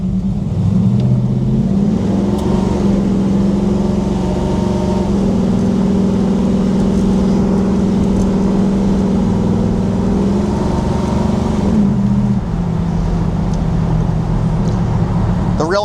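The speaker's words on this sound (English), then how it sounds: "it's got that muscle car sound that you want" A restored 1969 Chevrolet Camaro SS restomod with a 383 V8 rated at 430 horsepower and a rowdy cam idles and revs up steadily, a loud, deep, continuous rumble with pitch rising and falling through the clip.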